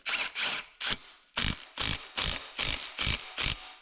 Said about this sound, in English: Put our bolt in. And then of course torque it to spec.